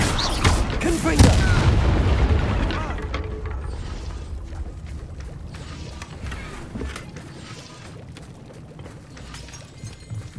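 A Confringo fire spell explodes in Hogwarts Legacy on PS5 with a loud, close boom near the start. A long rumbling decay and faint clanking mechanical noise follow.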